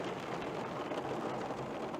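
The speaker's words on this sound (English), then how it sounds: "it's raining really, really hard" Heavy rain falls outside a church as a steady, broad hiss with no breaks, constant and fairly loud.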